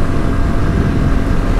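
A Haojue NH 190 motorcycle rolls downhill on a mountain road, its steady low engine hum mixed with heavy wind rush, loud and continuous throughout.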